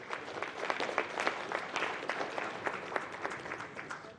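Attendees at a business breakfast meeting clap for a presenter, moderately loud applause with distinct individual claps popping out of the steady patter, continuing for several seconds without speech.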